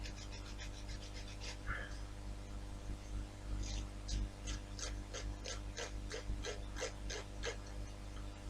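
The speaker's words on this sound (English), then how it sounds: "Just gently sanding it." Soft rhythmic rasping strokes gently sanding a plastic model part come in short runs with a pause between, close and quiet over a constant low hum.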